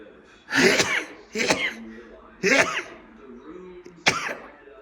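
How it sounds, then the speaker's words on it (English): Four loud, sharp sneezes in a row, each an explosive burst, spaced about a second apart with quiet breathing between. "I have to sneeze."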